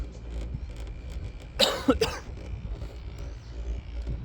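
A person with a mild illness coughs a few times in a short, close burst, breaking an otherwise quiet outdoor scene near a chairlift at Mount Kosciuszko.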